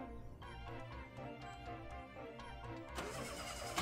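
A big old hot rod engine starting up in the Epic Mickey 2 racing game, a low cranking rumble with ticking under game music, swelling louder near the end.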